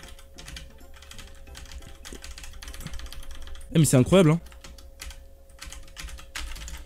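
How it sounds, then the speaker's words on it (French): Typing on a Keyz Rubidium mechanical keyboard, a quick run of close, crisp clicky keystrokes with pauses between bursts, and someone briefly speaks partway through. "C'est mon premier clavier mécanique."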